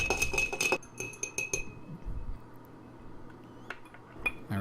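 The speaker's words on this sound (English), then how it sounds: "Now we're going to add ice and get ready to stir." Metal cutlery clinks against ice and glass as a cocktail is stirred, a quick run of close, bright taps at first and then a few scattered clinks over a quiet room.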